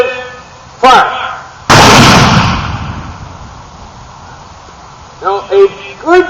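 A single loud artillery cannon blast at a living-history demonstration, booming and close, followed by a long rumbling decay, with drawn-out shouted commands heard before and after.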